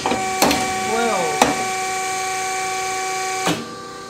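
A fast hydraulic cylinder on a Conway press cycling over a steady pump hum, with a few sharp clunks at the ends of its strokes and a brief whining rise in between.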